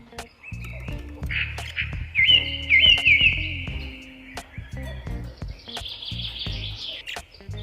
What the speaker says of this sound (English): Birds. Wow.